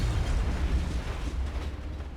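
A grenade explosion in the video game XCOM Enemy Within rumbles as a deep, sustained low boom that fills the clip steadily and slowly fades, with no voices over it.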